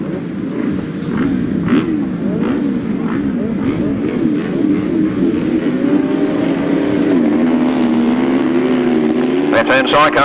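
Grasstrack sidecar outfits race at a season-finale meeting, engines snarling and rising and falling in pitch as they rev through the turns, loud and continuous, with a commentator talking over them.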